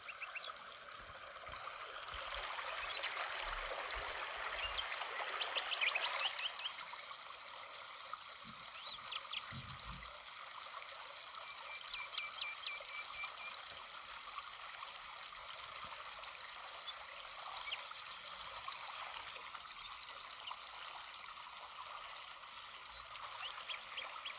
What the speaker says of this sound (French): Donc là, je rajoute les 2 litres d'eau